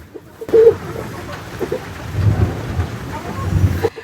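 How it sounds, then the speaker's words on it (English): Steady patter of rain drumming on a tin roof at a homestead, with low rumbling swells underneath, continuous and close. "listen to the tin roof rain"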